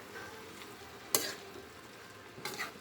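Adobong labong, bamboo shoots with oyster sauce, is stirred in a hot pan, giving a continuous gentle sizzle with two brief louder scraping stirs.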